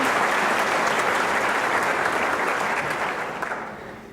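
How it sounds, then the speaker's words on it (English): Dense, sustained applause from a crowd at a scholarship banquet, full and even for several seconds before tapering off toward the end. "Now you can applaud."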